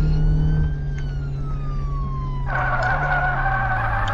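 An ambulance siren in the Flashing Lights video game wails with a sliding tone, then switches to a rapid, loud yelp pattern over a steady engine drone, with no voices.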